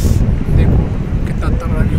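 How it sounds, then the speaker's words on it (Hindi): Strong wind blows at a riverside in Rishikesh, a steady loud rush buffeting the microphone with low roar throughout. "कितनी तेज़ हवा चल रही है"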